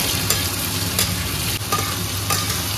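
Tomatoes frying with ginger and garlic in a pan for a jackfruit curry, a steady close sizzle with scraping stirs throughout and no talking.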